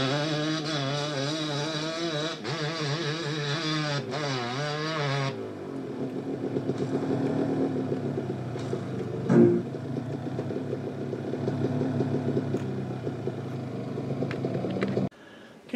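A steady electric-razor-like drone from the engine of the Carolina Flyer, a continuous buzzing hum that shifts pitch early on, then settles into an even whine with one brief thump near the middle.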